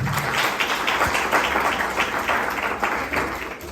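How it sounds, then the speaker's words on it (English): Audience applause at a business masterclass, steady dense clapping from a crowd filling the room at even loudness throughout, with no voices over it. "Give him a round of applause, everybody."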